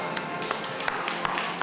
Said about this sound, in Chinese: 大家掌声